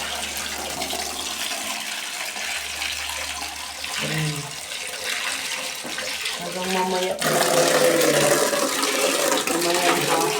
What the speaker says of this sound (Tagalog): maglalagay pala tayo ng tubig ngayon sa CR